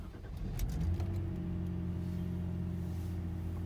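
A 1999 Jaguar S-Type 3.0 V6 cranks and fires up, a brief starter whir followed by a steady, close, smooth idle hum.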